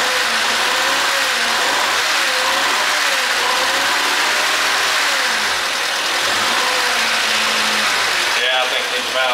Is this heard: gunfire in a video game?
no